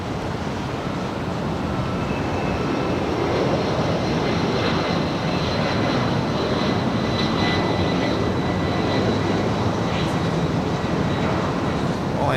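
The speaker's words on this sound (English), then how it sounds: "That was the UPS 757 departing to Ontario." A UPS Boeing 757 jet departing from LAX, a broad continuous engine roar holding steady throughout, loud and fairly near with no talk over it.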